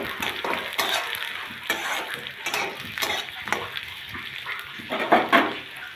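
Garlic, chopped onion, dry red chilli and bay leaf frying in hot oil in a wok: a busy close sizzle broken by repeated scraping strokes of a spatula against the metal, with louder clatters near the end.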